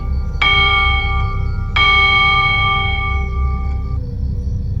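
Two bright chimes ring out a second or so apart, each tone lingering and fading, like a doorbell pressed twice, over a low background hum.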